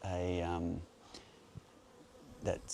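Honey bees buzz around a hive during a merge of two colonies, a faint continuous hum beneath a loud opening drone, with a few brief knocks.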